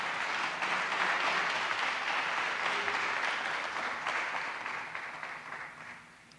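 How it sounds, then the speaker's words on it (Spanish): Congregation applauding during a church sermon, a dense sustained roll of many hands clapping at a distance, steady for several seconds before tapering off. "Dele un aplauso al Señor."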